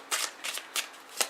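Oracle deck being shuffled by hand, four quick crisp riffling bursts in just over a second, close and clear with no talking.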